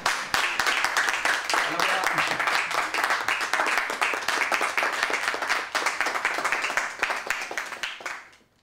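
Sustained, dense audience applause of many hands clapping steadily for several seconds, then fading out at the end.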